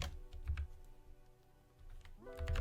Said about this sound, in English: we're gonna type in